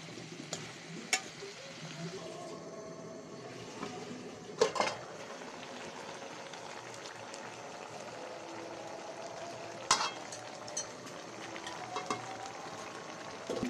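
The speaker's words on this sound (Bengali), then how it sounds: "এখন আমি দিয়ে দেব ফুলকপি, সিম, আলু। এগুলো আমি ভালো করে কষাই নেব।" Cauliflower, flat beans and potatoes frying with spices in a pan, a low steady sizzle with a few sharp scrapes and clatters from stirring, fairly quiet and without talk.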